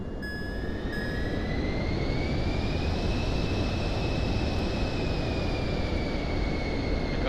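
A steady aircraft engine idles on a runway in Microsoft Flight Simulator 2024, with a smooth, continuous roar and a high whine that slowly rises and then holds, with no voices.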